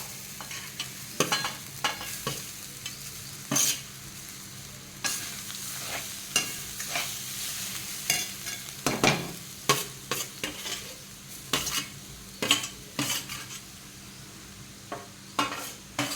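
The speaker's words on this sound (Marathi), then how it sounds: "यानंतर आपण सोयाबीन टाकणार आहोत. सोयाबीन घेत आहेत बारीक केलेली." Spoon stirring finely minced soybean frying in a pan for a paratha filling, with irregular scraping knocks over a steady low sizzle, close and alone without speech.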